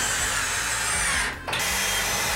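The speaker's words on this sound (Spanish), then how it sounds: "utilizamos tornillo roscachapa y el taladro con la punta para atornillar" A power drill driving sheet metal screws whines steadily at high speed, briefly dropping off for a moment before spinning back up, close and loud.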